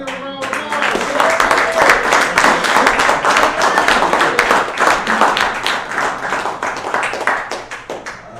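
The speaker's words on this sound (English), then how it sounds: "let's give a round of applause" Sustained audience applause at a live business talk event, dense, steady clapping from a crowd that holds for several seconds and tapers slightly, with voices speaking over it.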